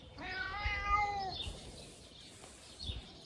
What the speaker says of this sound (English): Sorry if you can hear my cat meowing in the background.